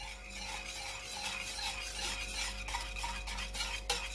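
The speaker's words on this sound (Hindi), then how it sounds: "जो चटनी थी वो इसमें मैं शामिल कर रही हूँ" A spoon stirs whisked yogurt mixed with chutney in a bowl, a soft continuous scraping and swishing that stays quiet and close for the whole stretch, with no voices.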